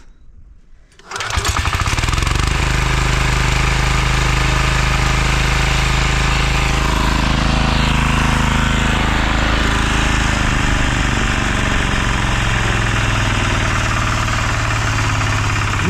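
A Kentavr MB2060D walk-behind tractor engine starts after a brief quiet moment and then runs loud and close, a rough, heavy knocking rumble that settles into a steady idle with no talking.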